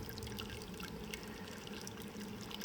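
Wort drains through the brew basket of a Robobrew Gen 3 Brewzilla into the kettle, a soft steady trickling and pouring of liquid, continuous and fairly quiet, with no talking.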